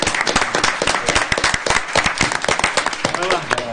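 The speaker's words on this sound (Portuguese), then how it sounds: "E os relatores merecem uma salva de palmas?" Audience applause for the rapporteurs at a legal debate on the new civil procedure code, a brisk burst of dense, close clapping that fills the whole stretch, with faint voices mixed in.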